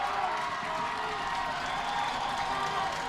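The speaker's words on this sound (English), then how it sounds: "Little Chute fans in front of us cheering" Little Chute fans at a high school football game against Freedom cheer and clap from the nearby stands. The crowd noise is steady and moderate, with a commentator talking over it.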